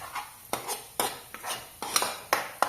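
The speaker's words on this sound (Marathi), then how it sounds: "हे मसाले सगळ्याला व्यवस्थित आपण हे करून घ्यायचे, भाजून घ्यायचे।" Spice masala stirred and roasted in oil for an egg masala fry, a spoon scraping the pan in regular sharp strokes about every half second over a low sizzle.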